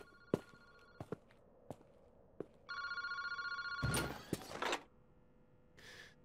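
A park phone booth telephone rings in a video game, a steady electronic ring that follows scattered footsteps and clicks, then a burst of louder handling noise and a brief rustle at the end.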